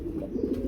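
A male pigeon among pairs of pigeons for sale gives a low, rumbling coo, close and steady, swelling slightly toward the end.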